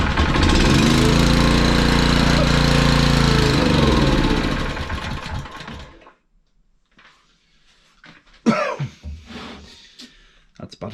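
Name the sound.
Honda EG1900x generator GX140 engine running on half choke, bad fuel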